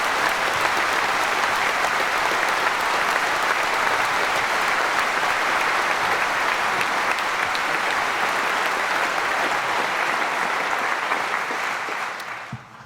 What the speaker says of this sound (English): another warm round of applause for Michael Eisner and the address he's just given